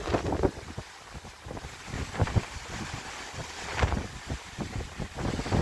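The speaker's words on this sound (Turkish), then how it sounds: "Rüzgar yüksek." Strong wind buffets the microphone in gusty, roaring bursts aboard the cruise ship MSC Fantasia off the cape of Sardinia, with the rush of rough water and waves slapping around the ship.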